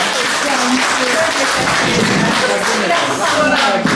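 An audience at a meeting applauds steadily, dense continuous clapping that holds at an even level for the whole stretch while a voice speaks over it.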